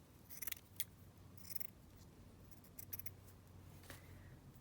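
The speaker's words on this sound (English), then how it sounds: "I'm just going to cut this piece of lace down here" Scissors snip a piece of lace in a few faint, quick cuts scattered over a quiet room background, close but soft, with no talking.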